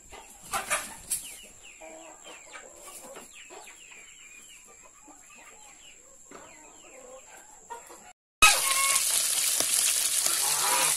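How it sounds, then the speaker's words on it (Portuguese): Hens cluck softly and intermittently nearby for about eight seconds, with a few sharper calls early on, before a sudden loud, steady sizzling noise takes over. "Essas galinhas não comeram milho, não, essas daqui."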